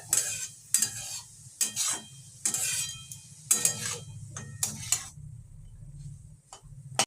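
Grated carrots for gajar halwa frying in a pan, with repeated bursts of stirring and scraping over a steady low sizzle, utensil clinks between strokes, no talking.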